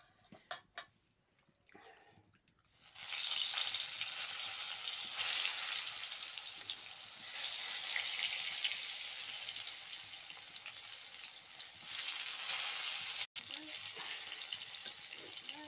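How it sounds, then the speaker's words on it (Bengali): Eggplant slices fry in hot oil with a loud, steady hiss that begins after a few faint knocks and continues close-up for several seconds, with no talk. "সুন্দর করে বেগুন ভাজা হচ্ছে সকালবেলাটায়।"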